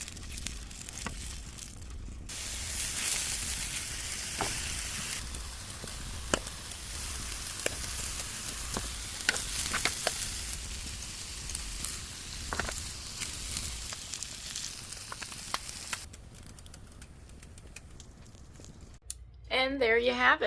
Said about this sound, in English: I'm gonna cut up those potatoes, add some spice and heat them up, and then I'm probably gonna put the sausage right in it.